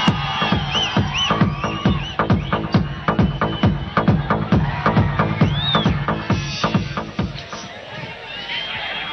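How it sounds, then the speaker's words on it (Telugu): An audience at a film's audio success function claps in a fast, even rhythm to welcome a guest onto the stage. Whistles and cheering voices sit above the loud, close applause, which thins out near the end. "గట్టిగా చప్పట్లతో స్వాగతం పలకండి"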